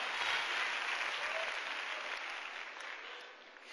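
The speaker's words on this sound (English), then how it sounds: "But give God a hand clap" A church congregation claps its hands during a sermon, producing a dense, sustained wash of applause that fills the space and fades slightly toward the end.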